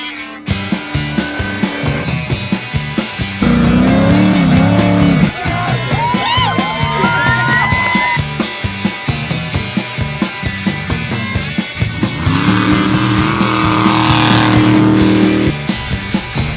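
A 4400-class race car roars loudly and continuously on track, its engine pitch rising and falling through gear changes and passes, the sound dense and close throughout with no speech over it.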